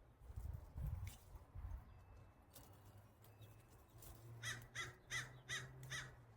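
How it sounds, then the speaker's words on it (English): Outdoors in a summer vegetable garden, a crow caws about five times in a quick rhythmic series, moderately distant and fairly faint, after some low handling rumble. "That's Joe Crow. He likes to comment on our videos."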